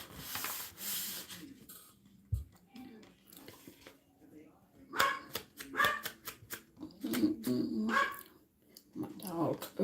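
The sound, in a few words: dog barking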